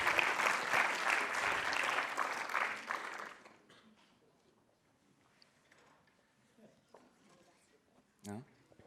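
Audience applause at a city innovation project presentation event, a dense wash of many hands clapping for about three seconds before fading into quiet room noise with faint scattered sounds.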